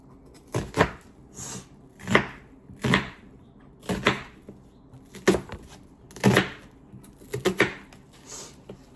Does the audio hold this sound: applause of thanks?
no